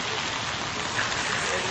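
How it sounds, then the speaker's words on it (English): Steady rain falls outdoors on a cold early morning before dawn, a dense, continuous hiss of drops on surfaces that stays even and fairly loud throughout, with no voices. "It's raining outside."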